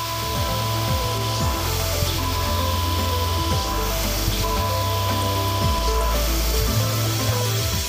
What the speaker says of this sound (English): The workpiece is faced off.